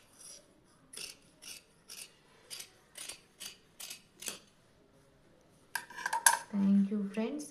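Scissors cutting cloth for a one-year-old's langa jacket top: about nine crisp, evenly spaced snips in a quiet room, followed by a louder burst of fabric rustling and handling.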